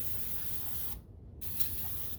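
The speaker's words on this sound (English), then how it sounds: "Brake clean, something like that, you can kind of just spray onto it." Two quick hissing bursts of an aerosol brake cleaner can spraying onto an intake manifold, separated by a short pause, fairly close and loud.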